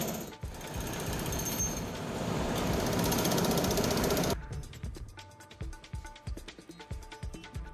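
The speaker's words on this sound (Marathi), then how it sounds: "पोलीस बंदोबस्तात पोकलेन जेसीबीच्या सहाय्यानं ही इमारत केडीएमसी कर्मचाऱ्यांनी हातोडा मारत कारवाई सुरू केली" Demolition of a building in Dombivli by civic workers with a Poclain excavator and JCB, heard as a dense, loud jackhammer-like pounding that abruptly gives way to a sparser run of sharp, rapid metallic hammer blows.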